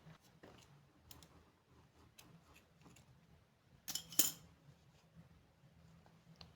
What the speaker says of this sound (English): we chain 1, and then we cut off our yarn.